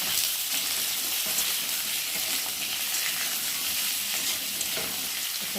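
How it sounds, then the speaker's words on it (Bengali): Potatoes fry in a pan with oil, giving a constant close crackling sizzle of even loudness throughout, alone and without talk. "আলুগুলোকে ভেজে দিই।"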